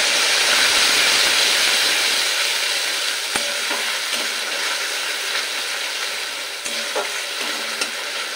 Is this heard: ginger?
yes